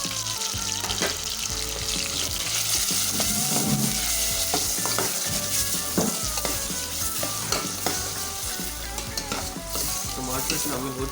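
Tomatoes and masala for Punjabi aloo gobi sizzle loudly in a pan as a spoon stirs and scrapes again and again, with clicks and knocks above a constant frying hiss.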